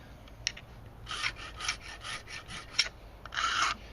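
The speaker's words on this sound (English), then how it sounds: "I just use an old file and round up the edges." An old file rasps against the edges of a homemade cell phone tripod mount in quick, close strokes, a short burst of rhythmic scraping with brief gaps between passes.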